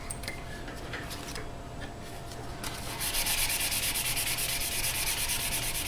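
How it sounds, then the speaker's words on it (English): Steady, continuous sandpaper rubbing on an Epiphone Dot guitar neck finish, close and even, with a brief quieter stretch before the scraping grows louder and constant. "sanding it out."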